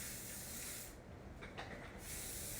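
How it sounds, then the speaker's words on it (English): Aerosol spray paint hisses onto a DIY caddy tray in close, steady bursts, with a brief pause near the middle before the spraying resumes. "I'm just going to spray paint this because I want to show it to you before"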